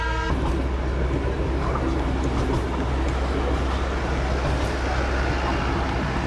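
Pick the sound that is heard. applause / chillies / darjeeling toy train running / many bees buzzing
darjeeling toy train running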